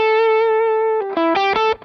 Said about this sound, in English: I can just use the pedal to boost the front end of an amp or an overdrive pedal